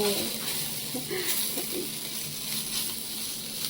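Ivy gourd (dondakaya) curry frying in oil in a pan, a steady close sizzle with light stirring.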